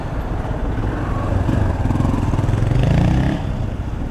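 A Honda Biz 100 motorcycle engine runs steadily nearby, a low buzzing putter that swells slightly as if revving a little, then settles.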